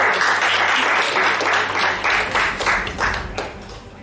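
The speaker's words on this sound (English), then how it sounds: "A round of applause for our players." Applause for performers after a stage show, close, loud clapping with distinct individual claps standing out and the sound thinning and turning more scattered toward the end.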